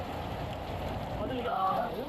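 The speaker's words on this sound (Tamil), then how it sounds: "பல்வேறு பகுதியிலும் கனமழை பெய்து வருகிறது" Heavy rain pours around Thirukkovilur in Tamil Nadu, a steady dense hiss of drops on surfaces that stays even throughout, with faint muffled sounds briefly breaking through.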